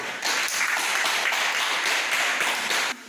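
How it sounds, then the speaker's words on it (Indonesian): Applause in an elementary school classroom for a student group, a brisk patter of many small hands clapping together for about three seconds, then cut off sharply. "tepuk tangan untuk kelompok 1"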